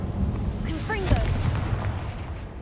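Confringo spell blast in Hogwarts Legacy, a heavy booming explosion with a whooshing burst and rumbling tail, loud and close, amid other combat noise.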